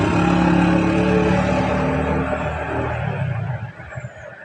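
Tricycle engine heard from inside the cab during heavy rain, a steady loud rumble mixed with dense rain noise that eases slightly toward the end.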